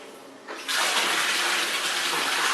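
Water from a garden hose gushes steadily into a spa, starting softly, then surging louder after about half a second and running strong to the end.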